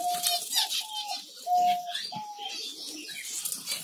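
Finches in a colony setup call and flutter about, with repeated short whistled notes, chirps and soft rustling of wings, fairly close and lively.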